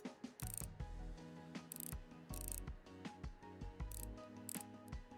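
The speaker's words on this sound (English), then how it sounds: "And we just got to put the screws back in." Screws being put back into a device in a tech repair video game, heard as a sequence of close mechanical ratcheting, clicking and whirring effects in short repeated bursts with brief gaps, and no talking.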